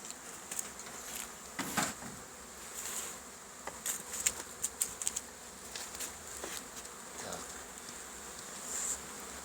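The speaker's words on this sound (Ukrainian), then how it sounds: "А тепер оглянемо бджолині сім'ї, подивимося." Honeybees buzzing steadily around an opened hive during an early-spring inspection after wintering on a screened bottom, a constant close drone with a few louder passes of individual bees and no talking.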